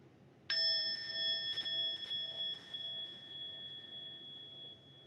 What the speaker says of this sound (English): I'm going to invite one sound of this bell